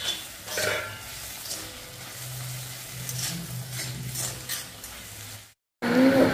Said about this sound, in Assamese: শাকখিনি ধুনীয়াকৈ ভাজিম